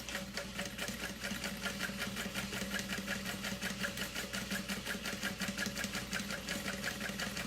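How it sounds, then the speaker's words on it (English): A sewing machine runs continuously, topstitching a wallet about an eighth of an inch from the top edge, its rapid even needle chatter close and steady for several seconds with no talking. "We're just going to stitch 1/8 inch from the top edge."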